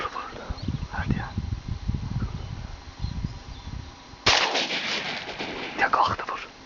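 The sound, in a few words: shotgun shots at ducks while hunting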